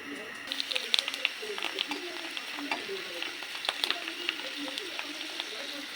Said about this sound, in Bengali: এরপরে আমি ফুচকাগুলো ভেজে নেব।